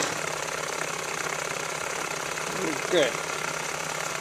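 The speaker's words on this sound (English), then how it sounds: "What we have in front of us is a small hot air engine, or known as a Stirling engine." A small hot air Stirling engine runs with a steady, even mechanical whir, and a voice briefly speaks over it near the end.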